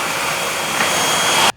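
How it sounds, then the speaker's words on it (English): A Bissell Featherweight stick vacuum cleaner runs with a loud, steady, close whooshing motor roar that stops abruptly at the very end, with no one talking. "Today I'm going to do a review on this Bissell Featherweight vacuum cleaner."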